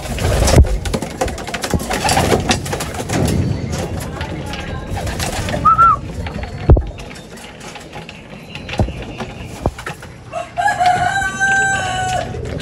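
Pigeons in a Filipino racing loft, being prepared for a summer race, coo and flutter among other birds, including what sounds like a rooster, with scattered handling noise and brief talk at moderate distance.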